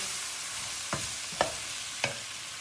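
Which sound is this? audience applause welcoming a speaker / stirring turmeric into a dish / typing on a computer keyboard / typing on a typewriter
stirring turmeric into a dish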